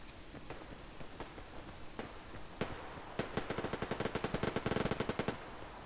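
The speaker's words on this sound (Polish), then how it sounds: "Tam gość kampi, w coś strzela nawet" Gunfire in the video game Survarium: a few scattered single shots at first, then a rapid automatic burst of closely spaced cracks that runs through the second half, loud and alone with no talk.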